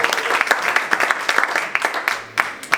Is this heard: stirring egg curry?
no